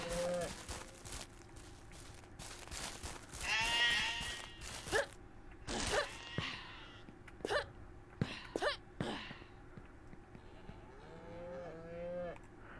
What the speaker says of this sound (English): them cows are noisy little things, ain't they?